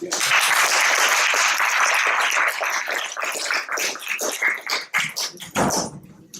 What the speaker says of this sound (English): Another round of applause for Dr. Bian.